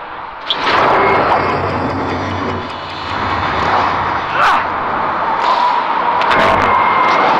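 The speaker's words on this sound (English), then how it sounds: "There are 2 helicopters circling the building" Helicopters circle a building in The Amazing Spider-Man 2 video game, a steady engine drone with rotor whir that swells and fades, broken by a few sharp thuds.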